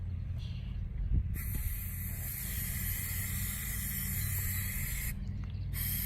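Aerosol spray can applying purple paint to a pallet candle lantern, a loud, close, continuous hiss lasting several seconds before briefly cutting out near the end.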